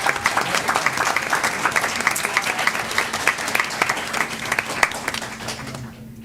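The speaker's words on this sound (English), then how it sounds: "let's give Abigail a big round of applause" A school board meeting audience applauds Abigail, a student ranked first in her class; a moderate crowd of clear, individual claps close by, steady for several seconds before trailing off at the end.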